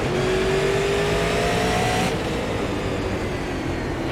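Super Late Model race cars roar in the iRacing video game at Lanier National Speedway, with a loud, sustained engine drone and rising pitch as they rev and pass through a corner.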